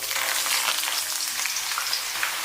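Onion and scallion hit hot rapeseed oil and fry for chili oil, giving a steady, close crackling sizzle that holds evenly throughout with no voices.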